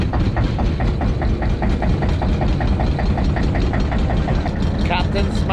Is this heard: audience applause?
no